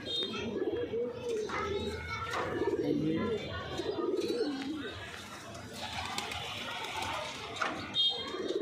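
Pigeons coo steadily up close, soft throaty calls repeating, with people talking quietly in the background.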